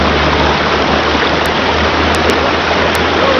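A waterfall feeding a river in South Sumatra, its water rushing in a loud, steady, unbroken roar close by, with no voices over it.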